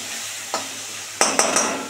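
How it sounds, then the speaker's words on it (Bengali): Spice masala being sautéed in oil for a wedding-style fish-head moong dal, a steady close sizzle with a few sharp scraping stirs near the end. "এটাকে খুব সুন্দর করে কষাতে হবে"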